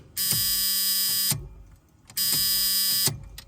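A circuit tester probing a live key-on wire in an LS-swapped Chevy OBS truck gives two loud, harsh electric buzzes, each over a second long, separated by a short pause.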